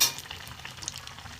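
Gram-flour batter coating a fish sandwich fries in a pan, a steady soft sizzle with light crackles and stirring clinks, close and alone.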